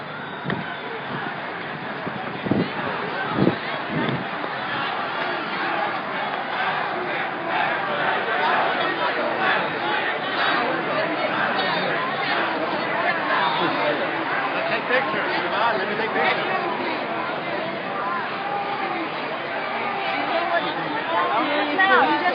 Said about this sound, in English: I hear a lot of yelling.